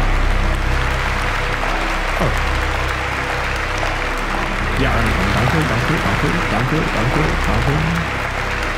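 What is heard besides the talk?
applause in a video game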